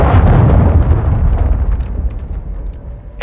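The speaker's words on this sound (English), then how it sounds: "Hostile cruise missile incoming!" A cruise missile detonating in Call of Duty MWII, one loud near blast followed by a long rumbling decay that fades over a few seconds, with a short electronic tone at the end.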